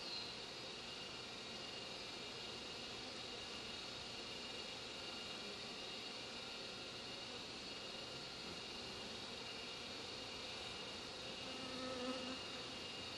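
Honey bees swarm around an opened hive in a busy bee yard, a steady, dense buzzing that holds evenly throughout with no voices over it.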